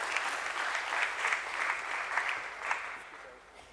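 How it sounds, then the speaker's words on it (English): An audience at a stock exchange listing ceremony applauds steadily for several seconds, a full sustained clapping that swells slightly and then fades toward the end, with no voices over it. "A nice round of applause, ladies and gentlemen, for Mr. Girish Joshi."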